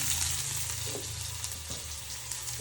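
Crushed garlic frying in hot ghee, a steady, moderate sizzle with a few faint stirring clicks, no talk.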